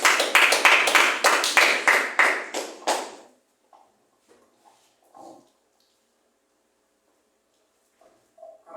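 A church congregation claps in a brief, regular rhythm for about three seconds, then the room falls nearly silent apart from a few faint, scattered sounds.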